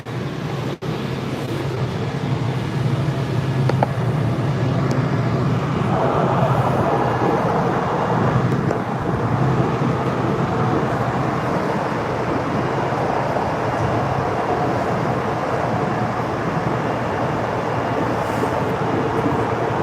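Inside a Silver Line metro train on a long ride, a steady low rumble and roar of wheels and motors hums continuously, loud and unbroken throughout.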